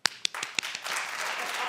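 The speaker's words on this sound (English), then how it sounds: "But clap if you like Joseline." Audience clapping at a talk show taping begins with a few sharp, separate claps, then swells into a steady spread of many hands and holds at moderate loudness to the end.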